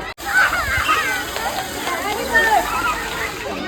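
Children shout and play in a park water fountain, their voices and excited cries mixing with splashing water. It sounds close and lively, with talk over the top.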